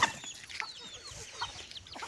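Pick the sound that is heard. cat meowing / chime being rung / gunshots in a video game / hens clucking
hens clucking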